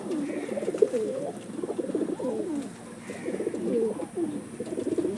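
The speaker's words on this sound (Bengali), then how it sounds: "সব ড্রাগন শেপের পায়রা, নর মাদি সব।" Dragon-shaped pigeons, males and females together, cooing in repeated soft, throaty phrases close by, with steady overlapping calls from several birds throughout.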